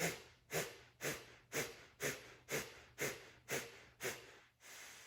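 Rapid rhythmic breath pumping during a yoga breathing exercise: about ten sharp, forceful exhales in a steady quick rhythm, close and clear, ending in a longer breath, with no talking.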